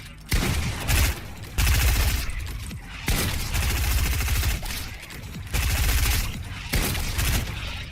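Video game gunfire shooting zombies, loud rapid bursts of automatic shots in several long strings separated by brief pauses, close and dense with no talk.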